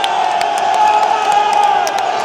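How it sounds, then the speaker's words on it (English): Football stadium crowd at Galatasaray versus Ajax loudly booing, a sustained massed roar of thousands of voices with scattered whistles and shouts poking out above it. "Fans are genuinely so loud at booing."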